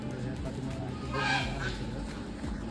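Honking, quacking waterfowl calls rise over a steady background, with a louder burst of calls in the middle of the clip.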